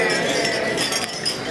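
Glasses clink together during a wedding toast to the bride and groom, bright chiming touches scattered over the murmuring of a guest crowd.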